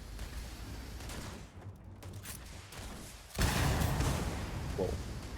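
Video game gunfire: a burst of shots breaks out partway through, loud and dense, after a quieter stretch of softer thumps.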